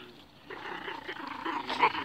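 Dogs wrestle and growl in a meadow, giving off a low, continuous, rumbling snarl that rises toward the end, heard close and moderately loud without speech.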